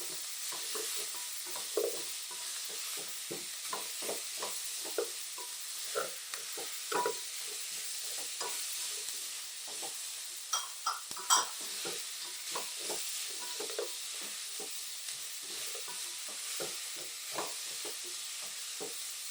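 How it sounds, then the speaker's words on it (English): Garlic and ginger frying in oil in a pot for a Kenyan-style beef stew, a soft continuous sizzle under repeated scraping strokes of a spoon, moderately quiet. "garlic and ginger combo. I'm going to mix this in"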